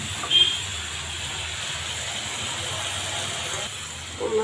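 Pieces of korma hit a hot pan and sizzle in a steady, even hiss that runs throughout, with a few faint clatters at the start and the end.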